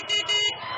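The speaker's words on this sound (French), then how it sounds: "Il faut klaxonner" Several short car horn honks sound in a street celebration in Abomey-Calavi, Benin, with brand-new motorbikes around. The blasts come loud and close, two or three in quick succession over steady traffic noise.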